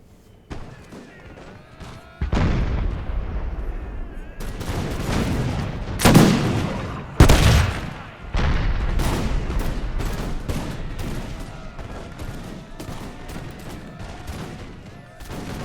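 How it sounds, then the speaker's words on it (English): Musket volleys in the Napoleonic-era Imperial Splendour game, Russian troops firing at Grenadiers, several booming rolling salvos at irregular intervals over a steady battlefield din, loud and fairly close. "And now let's fire just exclusively at those Grenadiers."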